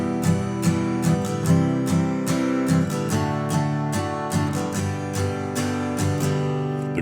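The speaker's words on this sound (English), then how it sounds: "Then we're going to get into some a different strum pattern here." An acoustic guitar strums a steady rhythmic strum pattern of repeated chords, close and clear with no talking.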